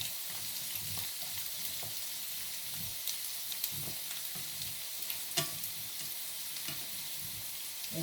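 Food sizzles and crackles steadily in a frying pan, with a few sharp scraping clinks of a utensil as the pieces are turned over, no voices over the hiss.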